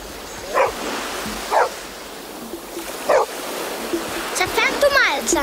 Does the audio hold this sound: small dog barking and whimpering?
yes